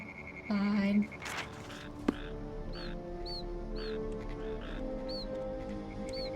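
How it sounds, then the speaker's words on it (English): Vulture cries from Ultima 9, several short, high, squeaky calls repeating at an even pace over a steady game ambience, with one brief louder honk-like sound at the start. "I'm not sure if actual vultures sound like that."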